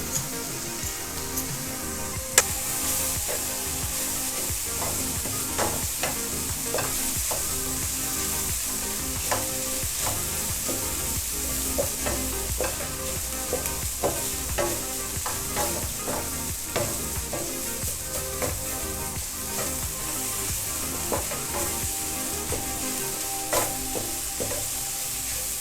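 A cup of cooked rice stir-fried in a hot pan, a steady sizzle broken by frequent scraping and clinking strokes of the spatula, alone without talk.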